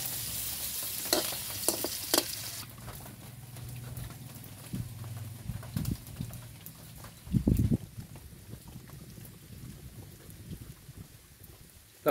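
Meat browning for adobo in a frying pan, giving a faint, soft sizzle beneath scattered clinks and stirring knocks. The sounds are fairly quiet and close, with brief louder bumps of the pan.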